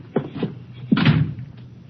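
Door sound effects in a radio drama: a couple of quick rattling thumps as the door is tried, then a heavier clunk as it is opened, close and fairly crisp with brief quiet between.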